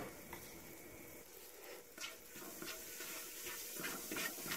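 Flour fries in oil in a pan while being stirred, for a meatball soup. A faint, steady sizzle runs throughout, broken by soft scraping strokes of the spoon.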